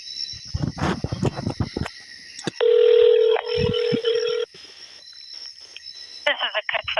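A telephone being dialed back to a police department gives a quick run of short keypad beeps, then a long steady tone and a pause before more tones. The sounds are close and clear, with brief muffled handling noise.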